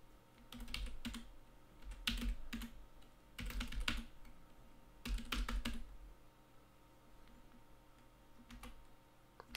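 Command being typed on a computer keyboard, quiet close clusters of rapid key clicks in several bursts separated by short pauses, no speech.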